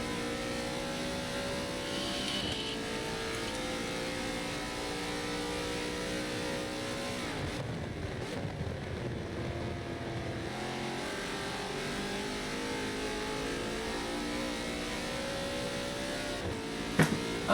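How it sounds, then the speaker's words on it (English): Race cars lapping Silverstone's Maggots and Becketts in a racing video game during a 12-hour endurance event, a continuous engine drone with revving and shifting pitch over about seventeen seconds. "Crispy definitely pushing a little more speed through Beckett's and Maggots."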